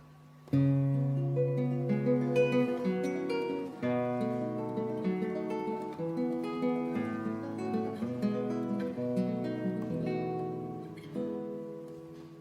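Plucked classical guitar, played with three fingers including the thumb, performs a melodic passage by Pedro Ximénez with clear, ringing individual notes and bass tones, steady and close, with no voices.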